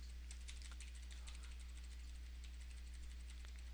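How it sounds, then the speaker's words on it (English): Up and down arrow keys on a computer keyboard pressed repeatedly while adjusting an image sharpening setting, a soft run of quiet clicks over a steady low hum. "what I'm going to use is the up and down arrow keys, so I can go a tenth of a pixel at a time"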